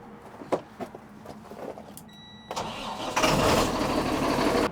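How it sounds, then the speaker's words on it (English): A farm truck's engine cranks after a few clicks and handling noises, catching and rising into a loud, rough idle that continues to the end of the clip. "I probably should start this truck actually and get it the heck out of the way"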